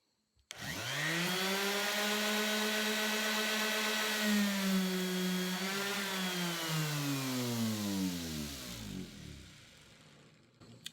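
A repaired random orbital sander switches on abruptly and runs at a steady, loud whine for several seconds, its pitch shifting slightly before it winds down and coasts to a stop.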